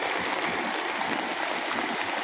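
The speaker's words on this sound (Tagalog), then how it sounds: "mapaw yung tubig sa tadaanan namin ng tambak." A steady, close rush of floodwater pours over a raised roadway embankment, a constant churning wash of water with no voices.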